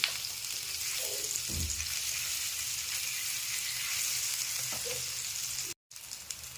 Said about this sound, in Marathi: ती दुसरी बाजू पण आपल्याला भाजून घ्यायची आहे चांगली.